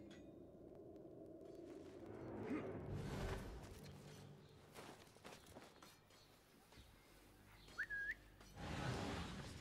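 Whistling from a character in Assassin's Creed Mirage, a few short melodic whistled notes, one rising clearly near the end, amid quiet game ambience with footsteps and low rumble.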